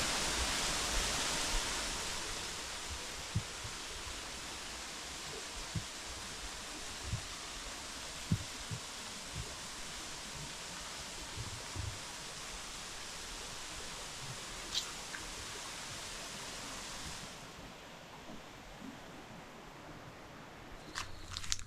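Paradise Ella waterfall on the Dehenakanda Mukkuwatta route to Adam's Peak in Sri Lanka gives a soft, steady, distant rush of falling water, with occasional faint footsteps and rustling.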